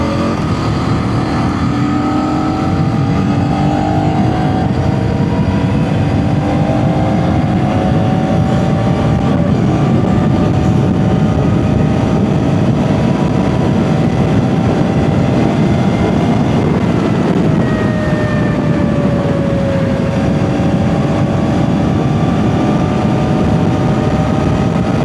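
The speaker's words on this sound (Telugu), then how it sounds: "ఇంకొకసారి స్పీడ్గా పోనిచ్చి బ్రేక్ చెక్ చేద్దాం." A KTM Duke 250 motorcycle is ridden at speed, its engine droning loudly with rising and falling pitch as it accelerates and shifts, accompanied by steady wind and road rush throughout.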